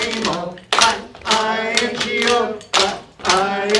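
An audience at a Celtic celebration in a library claps along to the Bingo song, the hand claps landing in rhythmic clusters beneath loud, steady singing.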